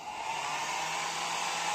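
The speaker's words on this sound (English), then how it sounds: "I also have a hair dryer. So there's a hair dryer right there. So I just plugged it in" A plugged-in hair dryer blows steadily and loudly from start to end, an even airy roar with a constant motor hum and no speech over it.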